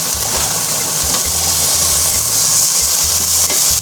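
Bacon and sausage fry in a dry pan with no oil, giving a constant loud sizzling hiss over a low, rhythmic pulsing hum underneath.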